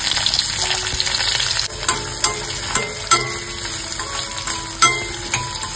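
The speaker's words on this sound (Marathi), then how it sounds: "इकडे सर्व गोष्टी व्यवस्थित परतवून घेतलेल्या आहेत" Onion sautés in a pan with garlic, Kashmiri chili, curry leaves and cumin for a medu vada side dish, giving a steady loud sizzle. Sharp scrapes and taps from stirring come at irregular intervals.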